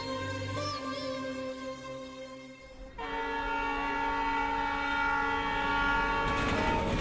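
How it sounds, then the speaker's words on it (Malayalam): A Kannur Intercity train drawing into a station: steady rumble and sustained horn-like tones throughout, swelling louder after a short dip midway, with no voices. "കണ്ണൂർ ഇൻ്റർസിറ്റി സ്റ്റേഷനിലേക്ക് അടുത്തു തുടങ്ങി"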